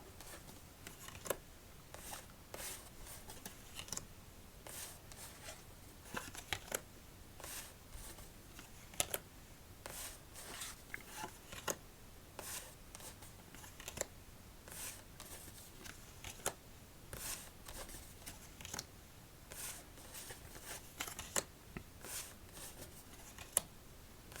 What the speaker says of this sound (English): Let's stack our cards and get on to our victory shuffle.